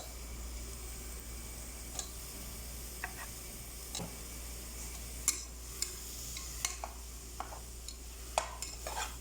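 Chopped ripe tomatoes being stirred into spicy prawn biryani masala in a pan, with scattered light scraping and clinking taps of a spoon over a quiet background.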